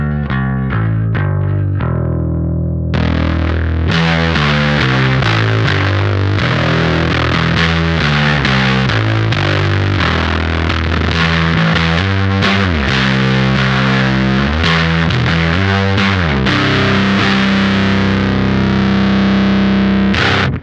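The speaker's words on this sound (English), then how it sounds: "let's go ahead and hear how the life support sounds on bass" Squier Classic Vibe Precision Bass played through an Intensive Care Audio Life Support effects pedal: a short clean passage opens, then a loud, gritty, distorted bass line with steady picked notes runs throughout, with no talking.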